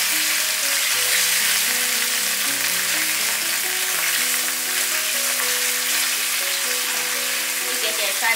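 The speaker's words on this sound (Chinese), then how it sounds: "先炒油豆腐，" Fried tofu puffs stir-fried in a wok of oil, giving a loud, continuous sizzle with faint stirring and a soft tonal background hum throughout.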